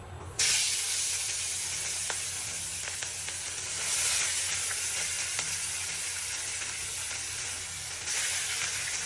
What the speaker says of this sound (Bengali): এখন হচ্ছে আমি মাছগুলো ভাজবো সুন্দর করে ভেজে নেবো